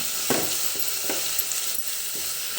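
Chopped tomatoes sizzle steadily in a hot pan, with a few soft scraping stirs punctuating the constant frying hiss.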